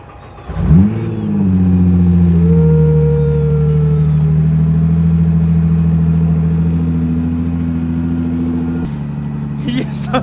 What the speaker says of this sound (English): Let it run a little bit and then you can rev it.